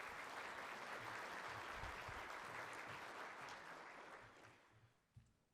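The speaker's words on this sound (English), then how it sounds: "let's give them a round of applause" A conference audience applauds at the 2019 Governor's Conference on Energy and the Environment, a broad wash of clapping that holds steady and then fades out, with a few last scattered claps at the end.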